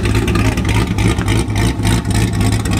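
A cammed Corvette ZR1 V8 roars at high revs, a loud, sustained engine note with a choppy, lopeing pulse throughout, close up and steady with no pause.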